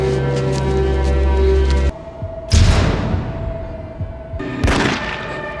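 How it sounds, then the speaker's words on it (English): Gunshots in a movie scene near a cabin: after a loud droning music passage cuts out, two sharp booming shots ring out a couple of seconds apart, each leaving a long echoing decay. "she hears another gunshot"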